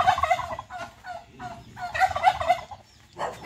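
A duck calls near a chicken coop in a rural yard, giving several loud, raspy, repeated bursts spread across a few seconds with short gaps between them.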